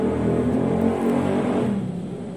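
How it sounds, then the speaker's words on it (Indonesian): A motorbike rides past outdoors, its engine a low steady rumble that holds fairly loud and then fades slightly as it moves away, heard alone without talk. "Ada motor lewat."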